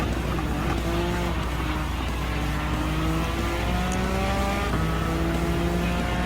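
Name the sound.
race car engines from Gran Turismo 7 video game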